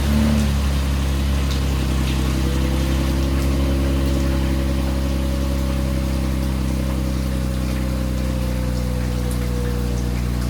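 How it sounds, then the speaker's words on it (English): A cold-started 2017 Infiniti Q50 engine with stock lower downpipes settles into a steady, loud, close idle with a low droning hum that holds evenly throughout. "let's do a cold start with the stock lower downpipes on"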